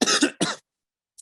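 Two quick, close coughs from one person in a quiet room, then silence and a faint tap.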